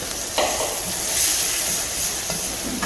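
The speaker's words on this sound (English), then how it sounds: "I'll cover the lid and allow it to steam together for another 5 minutes." Jollof rice with croaker fish steams in a covered pot, giving a steady soft hiss and faint sizzle with a couple of light clicks, close and continuous with no voices.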